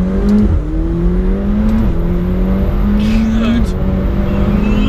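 A McLaren 720S sports car accelerates hard, its engine note climbing in steady pulls through gear changes, loud and close from inside the car, with a brief spoken word.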